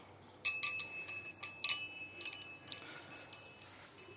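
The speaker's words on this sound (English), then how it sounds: "I made a wind chime out of it." Wind chime built from salvaged hard drive parts, ringing with a series of bright metallic strikes and clinks that overlap and shimmer, loudest early on and then trailing into softer, scattered tinkling.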